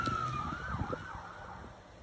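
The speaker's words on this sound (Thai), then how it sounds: "รถดับเพลิงกำลังมา" A fire truck siren wails with a rising and falling tone, fairly faint and distant, over low traffic rumble, responding to a village fire.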